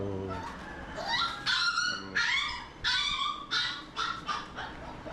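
Several dogs, hunting breeds, give a rapid run of high yips and whimpering barks, close and loud in short repeated bursts.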